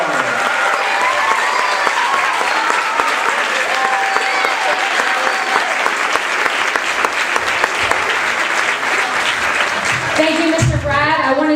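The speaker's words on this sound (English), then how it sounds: "A big, big round of applause for the leader of our music program" Big audience applause for the leader of a school jazz music program, loud sustained clapping and crowd noise filling the room for over ten seconds before a voice begins speaking.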